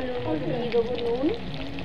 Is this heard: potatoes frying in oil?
yes